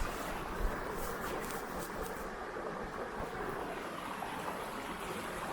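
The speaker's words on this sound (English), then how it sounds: "A very pretty waterfall." A waterfall with several cascades in Wales, heard as a steady broadband rushing wash of falling water, continuous and even, moderately close with no voices.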